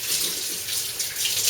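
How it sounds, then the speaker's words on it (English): Water running from a kitchen tap as hands are washed, a steady close hiss of flowing water with no talk. "So let me wash my hands"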